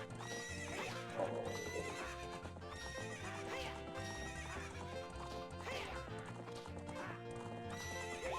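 Horse sounds from Zelda: Ocarina of Time during a horse race at a ranch, with a neigh and clip-clopping hooves heard over continuous game music.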